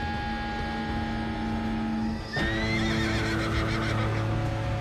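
A foal whinnies in a sharp, rising and wavering call that starts suddenly midway, over a steady background hum and faint shuffling.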